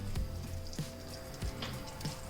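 Green chilies hit hot oil in a pot with a steady hiss of sizzling, punctuated by a few soft thumps and clinks of a spoon at regular intervals.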